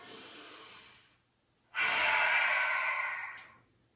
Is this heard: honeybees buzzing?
no